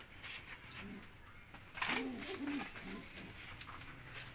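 Striped fancy-breed pigeons coo in a low, soft burbling series of calls, close by, with someone speaking over and around them.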